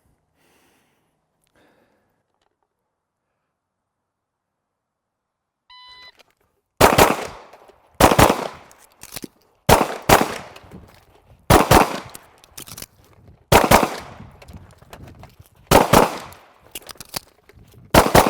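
Sharp gunshots from a shooting training drill, about nine loud reports in irregular bursts after several seconds of near silence, with brief pauses between some shots.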